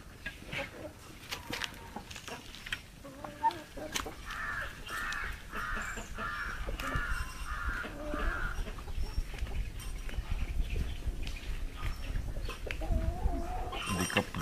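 Backyard hens and young chicks on a small organic poultry plot, with repeated clucks and a run of calls near the middle, plus scattered cheeping and scratching over outdoor background noise.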